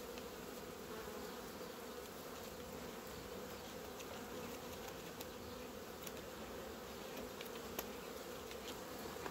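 Honey bees in an opened beehive with a black queen make a dense, even buzzing hum that carries on unbroken and fairly soft throughout.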